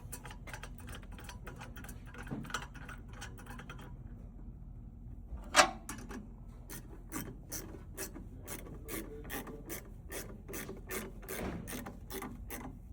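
A screw is driven back into a W3 compressor booster filter housing, making a quiet run of rapid ratcheting clicks that pause briefly, resume after a single sharp click, then continue at an even pace until snug.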